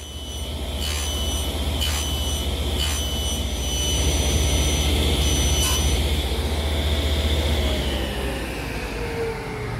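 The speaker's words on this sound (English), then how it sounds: "I want to nibble away the material to make that lap joint." A hand saw nibbles away wood to cut a lap joint notch, a steady loud rasping scrape that runs continuously with a few brighter strokes early on.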